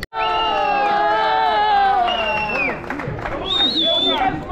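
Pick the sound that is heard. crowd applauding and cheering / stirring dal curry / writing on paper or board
crowd applauding and cheering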